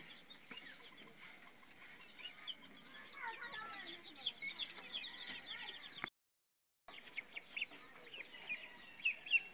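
Chickens on a small farm cluck in a dense, busy chorus of short calls, steady and fairly close, with a brief silent gap partway through before the clucking resumes.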